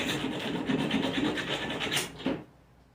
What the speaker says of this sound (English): This is a piece of old fossil, and I'm using it to sand it.